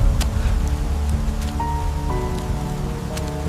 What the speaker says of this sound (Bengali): আরে এত জোরে বৃষ্টি, কোথায় আশ্রয় পাই?